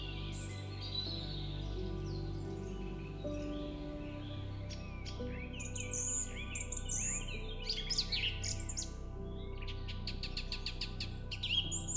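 Birds chirp and sing outdoors in a calm natural setting, with bright trills and quick repeated tweets over a steady low hum, growing busier toward the end.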